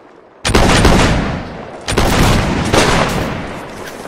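Musket volleys crash out in the Napoleonic Wars game, loud and close, with a massed burst of fire followed by two more ragged volleys and a rolling echo between them.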